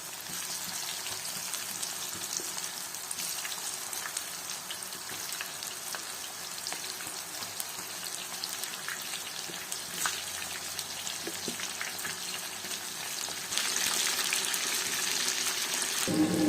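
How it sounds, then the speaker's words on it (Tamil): Steady crackling sizzle of mushrooms deep frying in hot oil, continuous and close, growing a little louder near the end. "இந்த சலசலப்பெல்லாம் அடங்கினதுக்கு அப்புறமா எடுத்துக்கலாம்"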